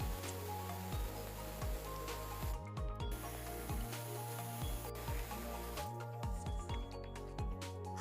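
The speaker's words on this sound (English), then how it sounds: "I will use an air saw" An air saw cuts through the plastic underbody panel of a 2010-2015 Toyota Prius, giving a steady buzzing rasp that breaks off and restarts in short bursts, close and continuous.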